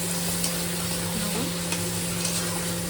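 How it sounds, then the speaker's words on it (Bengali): Potato, onion, tomato and green chili frying in oil with black cumin, a steady close sizzle with light stirring scrapes running the whole time and no voices. "আলু পেঁয়াজ টমেটো কাঁচা লঙ্কা কালো জিরে দিয়ে ভালো করে একটু ভেজে নেব"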